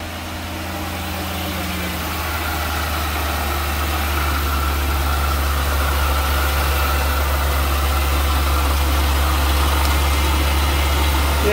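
A supercharged Jaguar XJR V8 from the X350 series idling after servicing, a deep steady low rumble with a constant whirring hum that swells slightly in the first seconds and then holds even and close.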